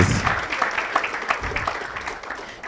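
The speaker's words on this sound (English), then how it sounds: "you can do a better round of applause for Peter." A short burst of applause at a town hall event, many hands clapping at once in a quick, scattered patter that fades slightly toward the end.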